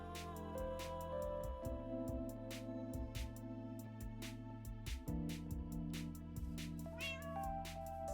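An orange house cat meows repeatedly in short, close calls over a steady background of game music and ambient tones.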